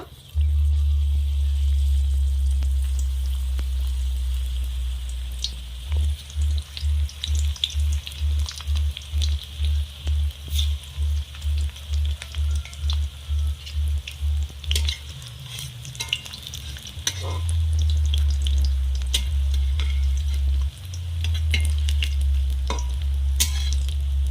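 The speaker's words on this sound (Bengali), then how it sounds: "এবার আমি এক এক করে এই পাঁপড়গুলো ভেজে নেব।" Papads deep-frying one by one in hot white oil in a wok, a loud continuous sizzle broken by a steady run of rhythmic stirring or scraping strokes in the middle, with sharp crackles scattered throughout.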